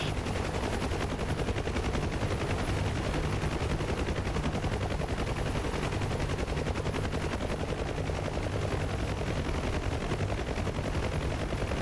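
A door-mounted machine gun on a Huey helicopter in DCS World fires a long continuous burst, steady rapid gunfire layered over the helicopter's rotor and engine roar.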